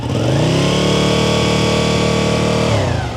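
A Ducati Panigale 959 sport motorcycle engine revs loudly in neutral and holds a high, strained drone close by for a few seconds before dropping back.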